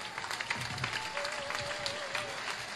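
Crowd applause at a Frente Amplio political rally in Las Piedras, a continuous patter of many hands clapping at moderate volume, with a faint voice sounding briefly beneath it.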